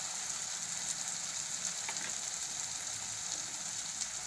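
Turmeric stirred into a softened tomato masala in a hot pan, with a steady, even sizzle and crackle of frying running throughout at moderate volume.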